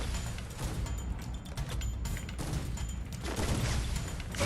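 Automatic weapon fire in the mobile shooter Free Fire, a dense, steady stream of shots at moderate level with faint mechanical clicks over it.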